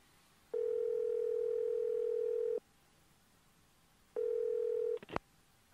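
A steady telephone tone in the video game Evil Inside sounds twice, a long two-second hum followed after a pause by a shorter one that ends in a sharp click, clear over a quiet background hiss.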